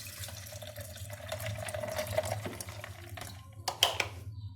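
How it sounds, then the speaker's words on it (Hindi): Water poured into a blender jar over lemon, mint and Tang for lemonade, a steady splashing pour with a brief trickle and clatter near the end, fairly close and moderately loud. "और साथ ही हम ऐड कर देंगे पानी, तकरीबन"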